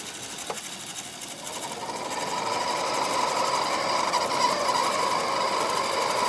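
Cooling fan placed near a computer, running with a steady whirring drone and a high mechanical whine that grows louder over the first couple of seconds and then holds constant, close by and without talk.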